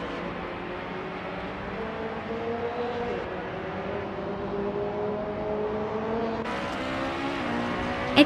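A 2012 Lotta Granta race car in a racing video game, Junior Class TCE, drones along with a steady engine note that climbs gradually in pitch as it accelerates, then shifts and rises again, with other cars faintly behind.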